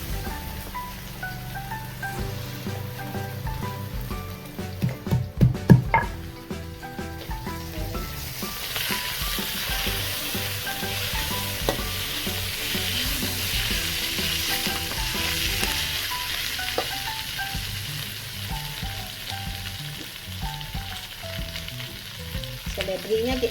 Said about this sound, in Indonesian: Seledrinya diikat aja ya, seledrinya juga ditumis.